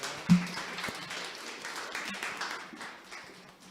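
An audience at a startup forum in Gwangju applauds the speakers, with a brief sharp clap at the start followed by moderate clapping that gradually fades.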